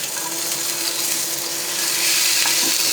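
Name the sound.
fish frying in a pan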